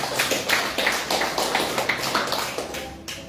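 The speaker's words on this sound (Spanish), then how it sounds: "Dale una ofrenda de palmas al Señor" A church congregation at a Sunday service claps together as an offering of applause, giving steady, evenly spaced claps at a moderate pace with a faint murmur underneath.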